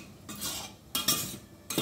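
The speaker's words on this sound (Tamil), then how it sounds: "இதை நல்லா இப்படியே சிம்மில் வச்சே வறுக்கணும்." Rice flour being dry-roasted over low heat in a pan, with a spoon scraping and stirring in several bursts of close, gritty metallic scuffing separated by brief quieter gaps.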